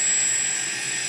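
Multicopter electric motors spinning after arming, a steady high-pitched whine with a thin tonal line held evenly throughout, loud and close with no talk.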